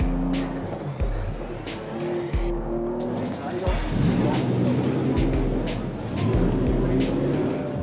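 A Porsche 911 races up the Arosa hill climb on a wet road, its engine rising and falling through gear changes and close-up revving, while a voice speaks over it.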